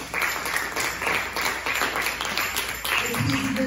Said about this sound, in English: If you love the Lord, clap your hands.